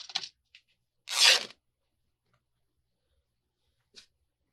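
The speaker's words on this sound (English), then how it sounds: "So I'm going to cut it there." Fabric is cut close up, with one main rasping pass lasting about half a second and a few short snips and rustles scattered before and after it in an otherwise quiet room.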